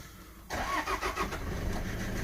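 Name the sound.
car engine starting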